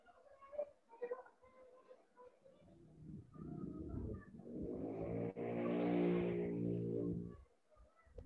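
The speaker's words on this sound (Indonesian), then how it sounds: "Dia ada suara sepeda motor." A motorcycle engine passes by, swelling from a low rumble to a loud, harmonic drone and then dropping away, after a stretch of quieter background sounds and indistinct voices.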